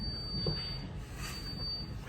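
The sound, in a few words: bus beeping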